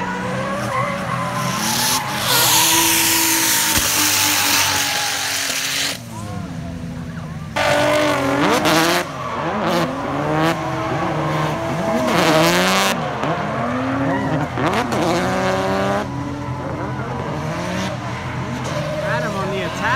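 LS-powered Nissan S13 on a track, engine roaring and tires squealing continuously through slides, loud and close, with excited voices talking over it.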